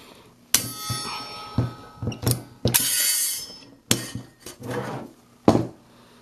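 A hand-held punch tool drives holes through a titanium snow stake, giving several sharp metallic clunks and snaps spaced irregularly, with faint mechanical handling noises in between, close by.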